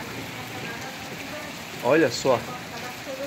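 Steady heavy rain with hail patters across the whole clip, with a brief voice speaking over it partway through.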